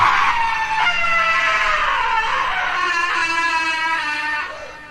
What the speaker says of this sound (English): Finally, a third scream came just as suddenly, but this time, it was on our side of the river